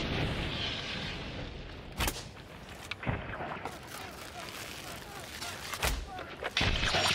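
Gunfire in the game Hunt: Showdown, several sharp sharp reports spread across a noisy, rumbling background, close by and loud with gaps between shots.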